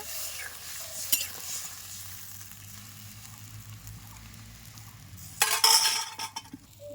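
A tengra fish curry with small green mangoes sizzles quietly in a pan under occasional stirring clinks, then a sudden louder burst of hissing as water hits the hot pan, with no voices.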